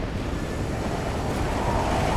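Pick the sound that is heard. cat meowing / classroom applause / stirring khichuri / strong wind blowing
strong wind blowing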